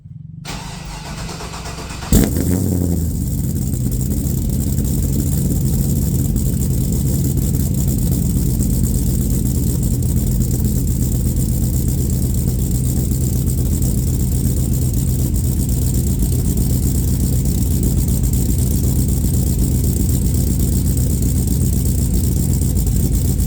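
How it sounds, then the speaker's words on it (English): Car fitted with a 4-inch Magnaflow muffler cranks and fires after a brief quiet start, then settles into a steady, loud, deep exhaust idle that holds evenly for about twenty seconds. "So let's start up the car with the Magnaflow muffler."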